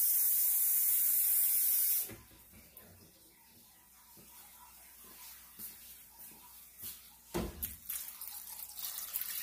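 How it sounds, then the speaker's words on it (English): Water is poured into a cooking pot, a hissing, splashing pour that starts loudly and then continues as softer trickling with a few brief bursts, close to the listener with no talking. "So now what we're finna do, we're finna add some water."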